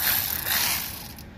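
A ratchet wrench tightens the sway bar link bolt on the driver's side of a 2007 Chevy Impala, giving a loud, close, continuous grinding rasp that fades slightly toward the end.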